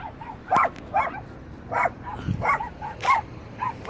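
A dog barks repeatedly in short, sharp yips, about six barks with brief pauses between them, fairly close by.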